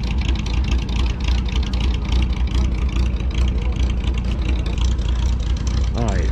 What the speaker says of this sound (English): there's the unmistakable Volkswagen sound. Although he's got a loud muffler.